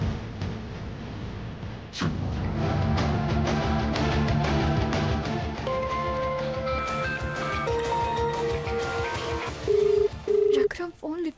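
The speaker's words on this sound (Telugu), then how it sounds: "రఘురామ్కి ఫోన్ చేస్తాను" A phone call being placed in a Telugu TV serial: a run of keypad tones, then repeated ringback beeps near the end, heard over background music and room noise.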